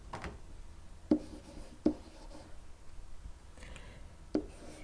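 Pen writing a number by hand on paper during a maths lesson, quiet scratching strokes with a few distinct taps, faint and close.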